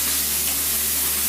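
Cooking spray hisses from a can onto a 9 by 13 baking pan in a steady, close burst of broadband spray lasting about a second.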